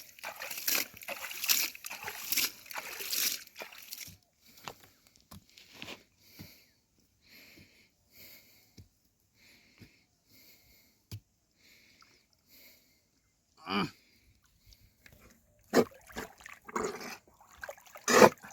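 Water splashing and sloshing in bursts, loudest at the start and again near the end, with quieter scattered drips and dribbles between, close by and without speech.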